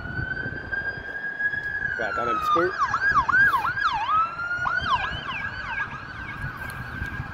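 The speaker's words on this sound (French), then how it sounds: "Désolé pour la sirène." An emergency vehicle siren wails in a street in the Philippines, a steady tone that turns into fast rising and falling yelps as it passes nearby, while someone talks over it.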